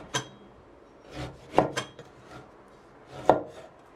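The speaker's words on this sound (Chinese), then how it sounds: "这小块咸肉我们把它切成薄片" A knife slicing a small piece of cured pork into thin slices on a cutting board, a handful of crisp, uneven chops and taps close by with short pauses, no talking.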